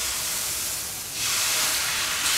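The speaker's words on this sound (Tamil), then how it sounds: "இப்போ ரோஸ்ட் பண்ண போகிறோம் நெய்யை விட்டு" Dosa batter roasts in ghee on a hot pan, a steady broadband sizzle and hiss that swells louder halfway through as more ghee hits the pan.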